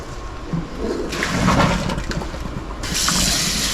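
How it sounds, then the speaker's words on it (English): Running water rinsing out a wok in a home kitchen while making Cantonese soy sauce chow mein, a rushing splashy stream that swells, dips, then surges again, close and loud with no talk. "I'm just going to rinse out the wok and then get it ready to stir fry."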